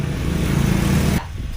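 A motorcycle engine roars past close by, loud and steady for about a second before cutting off abruptly, leaving faint background noise.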